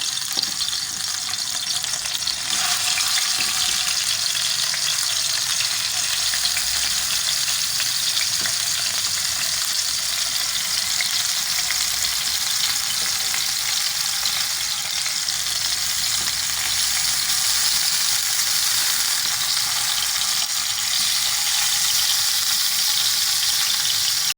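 Chicken shashlik sticks fry in a hot pan over a medium-low flame, giving a loud, dense, unbroken hiss of sizzling oil that runs on without pause.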